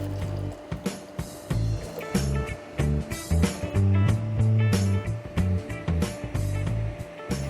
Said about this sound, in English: Adjust with the consistency by adding water.